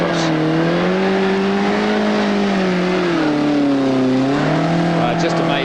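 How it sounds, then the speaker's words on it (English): A 4WD vehicle's engine labours hard during an off-road trial, a loud sustained drone sagging and rising in pitch as it strains over the terrain. "Certainly making that engine work, isn't he?"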